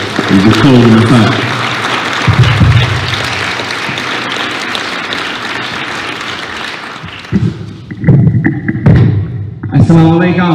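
Audience applause in a hall for a keynote speaker, a sustained wash of clapping lasting about seven seconds, with voices and thuds mixed in, before the clapping fades and speech takes over.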